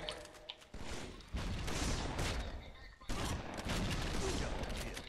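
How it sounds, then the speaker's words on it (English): Bursts of gunfire and explosions in the video game Halo: The Master Chief Collection, loud rapid shooting in two long stretches separated by a brief lull, with voices mixed in. "Who's shooting me?"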